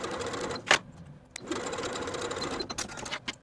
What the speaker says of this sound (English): I'm going to edge stitch along the binding just above that seam line